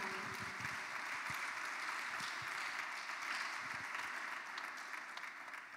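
A church congregation applauds during a seminar service, with a continuous wash of many hands clapping, fairly quiet and distant, carrying steadily throughout without speech.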